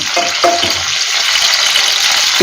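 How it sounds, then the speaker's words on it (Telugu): Eggplant pieces fry crisply in a pan for a garlic and chili eggplant curry, giving a dense, continuous close-up sizzle with a few brief stirring clinks near the start. "మెత్తగా ఉండకుండా కొంచెం క్రిస్పీగా వేగుతుంది కదా"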